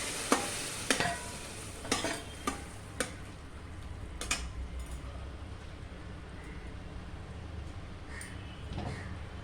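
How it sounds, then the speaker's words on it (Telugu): Peas dropped into a frying pan and stirred for a spiced peas chaat, with a run of sharp spoon knocks against the pan early on over a soft, continuous sizzle that fades as the stirring slows. "ఇప్పుడు మనం ఈ బఠానీలు వేసుకుందాం"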